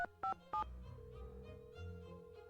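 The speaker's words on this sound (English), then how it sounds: "So, I'm gonna go ahead and call Ned." Touch-tone telephone keypad dialing a number in a Nancy Drew video game: three crisp dual-tone beeps in quick succession, then a faint steady line hum with low background noise.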